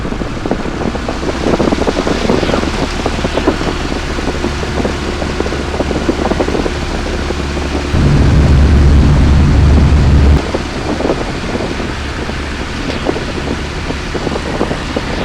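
A 65-horsepower Piper J3 Cub taildragger takes off in light wind, its small engine droning steadily with wind buffeting the microphone and a louder low-pitched surge of power partway through.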